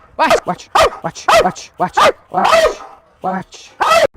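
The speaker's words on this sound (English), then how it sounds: "Or was she just barking because she wanted the ball?" A dog barks in a quick, irregular series of sharp, close barks, with brief pauses between bursts.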